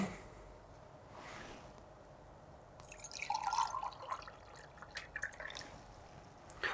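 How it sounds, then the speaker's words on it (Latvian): Water poured into a container for a classroom mixture-separation demonstration with cocoa powder, clay powder and sand gives a quiet trickling and splashing, faint and close, with a few drips. "Sākumā es ieliešu ūdeni."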